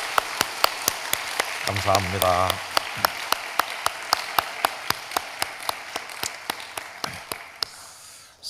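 A church congregation claps in encouragement after the worship team leads the singing, a quick steady rhythm of claps running throughout while a voice briefly speaks over it.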